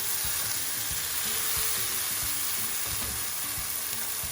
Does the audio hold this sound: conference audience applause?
no